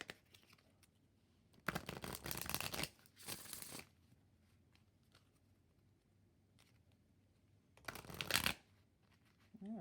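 A deck of oracle cards is shuffled in three separate bursts, each a close, crisp riffling patter lasting a second or two, with quiet gaps between them.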